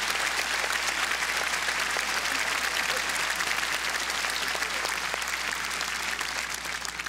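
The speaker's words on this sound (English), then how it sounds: "give him a nice round of applause" A large induction-ceremony audience applauds the speaker's 93-year-old father, Stanley Flink: dense, steady clapping fills the hall at even loudness for about seven seconds, with no voices over it.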